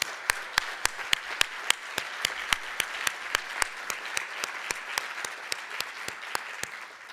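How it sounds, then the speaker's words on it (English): Audience applause at a fellows class presentation, with a few sharp, close hand claps standing out rhythmically over a softer bed of clapping throughout. "Would you please all join me in giving them a round of applause?"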